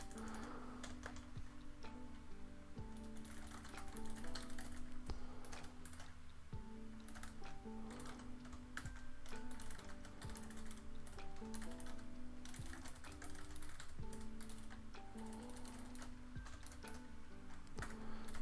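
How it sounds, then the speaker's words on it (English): Fast typing on a computer keyboard, a dense, continuous patter of close key clicks with occasional heavier strokes, running steadily for the whole stretch with no talk. "I like your speed of typing"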